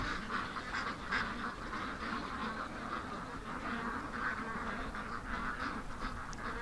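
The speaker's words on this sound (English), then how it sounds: "Definitely a bunch of spooked ducks" A bunch of spooked ducks quacking in rapid, overlapping calls close by, a continuous noisy chorus with no one speaking.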